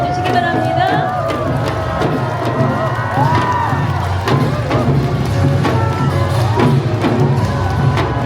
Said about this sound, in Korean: 어머니들께 다시 한번 뜨거운 박수 보내주시기 바랍니다.